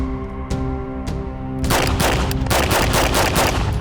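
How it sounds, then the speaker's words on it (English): A rifle replica of the Jackal from Black Ops 6 fires full auto until the magazine is empty. Two single shots at first, then a loud, rapid, continuous burst of gunfire close to the microphone. "let's have John empty out the rest of this magazine and just let us know how that recoil feels, John."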